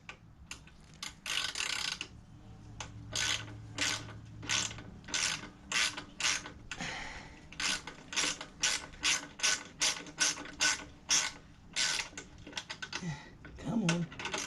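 Ratchet snugging down a flag pole bracket on a 2022 Harley-Davidson Street Glide FLHXS, a long run of rapid, regular clicking ratchet strokes close by, with brief pauses between bursts and a little talking.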